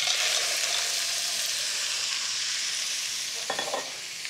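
Shallots and garlic sizzle steadily in a hot pan, a loud continuous frying hiss with a brief clatter of stirring near the end.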